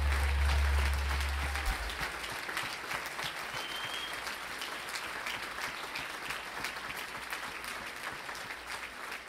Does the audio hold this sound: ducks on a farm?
no